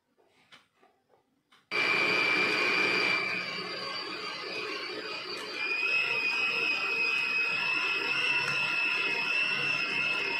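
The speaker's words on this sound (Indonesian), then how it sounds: "Dan kemudian kita mixer kembali." An electric mixer kneads pizza dough. A few faint knocks are followed by a steady mechanical whir with a high, whining tone that runs loud and unbroken to the end.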